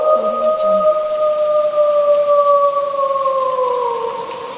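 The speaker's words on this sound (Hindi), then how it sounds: "ये भेड़ियों की आवाज़ और ये तेज़ तूफानी बारिश" Steady, heavy stormy rain hisses throughout while a long, sustained wolf howl glides slowly over it, fading slightly toward the end, in a Hindi cartoon.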